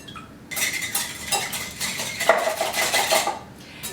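Eggs being whisked in a large bowl with a quick, continuous metallic rattle of whisk against the bowl, fairly loud and close, running without pause for a few seconds.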